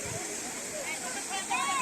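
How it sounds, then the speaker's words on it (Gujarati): Water pours steadily over the low-flowing waterfall at Sandhida Mahadev temple, Sanosara, in the dry season, making a constant broadband rush close by while a person talks over it. "વહેતા પાણીનો અવાજ તમે સાંભળી શકો છો"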